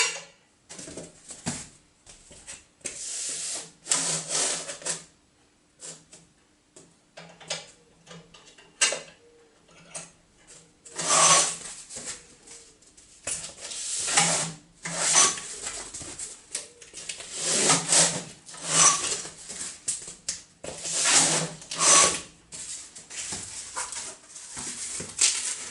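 A box-making machine cuts fold notches into cardboard, giving repeated bursts of loud clattering and thumping mechanical noise in irregular clusters with brief quieter gaps, close up and without talk.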